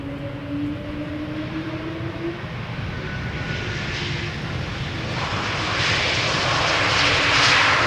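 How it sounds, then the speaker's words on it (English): A KLM Embraer E2 jet arrives from Zurich at Amsterdam Schiphol's Polderbaan, its engines a steady distant drone with a low whine that swells louder over the final few seconds as it approaches. "Another E2 Embraer arriving from Zurich."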